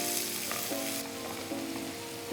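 Green chilies and finely chopped onions hit hot oil with cooked garlic, a steady loud sizzle and crackle filling the whole stretch, with brief stirring scrapes and no talking.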